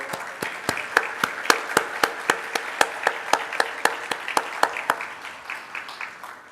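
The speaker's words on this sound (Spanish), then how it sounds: "un aplauso para el doctor" A small seminar audience gives sparse, evenly spaced claps for a doctor introduced at a medical talk, the individual claps distinct and close, with no one speaking.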